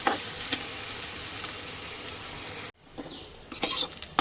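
Onion and tomato fry in a pan with salt while being stirred, giving a steady close sizzle with a few sharp scrapes, a brief drop to near silence midway, then renewed sizzling and clattering.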